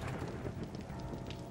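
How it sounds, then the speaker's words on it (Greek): Rain and thunder in the 7 Days to Die video game, a quiet, dense rain hiss with a low rumble underneath that holds steady through the moment. "Γιατί βροντάει? Δεν θέλω τέτοια."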